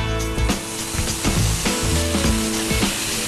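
Bacon strips fry in a hot pan with a dense, steady sizzle, close and loud, with faint scraping and tapping of utensils over it and no talking.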